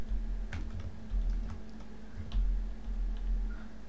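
Computer keyboard typing: a scattered run of light, irregular key clicks over a steady low electrical hum, close and fairly quiet, with no talking.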